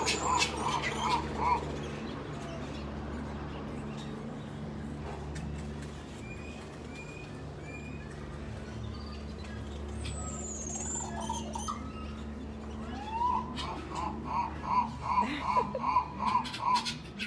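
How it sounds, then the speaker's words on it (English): Gray-winged trumpeters, South American birds kept at a zoo, give short bursts of rapid, evenly spaced hooting notes at the start and again near the end, with low background noise and faint voices between. "These are gray-winged trumpeters, South American birds."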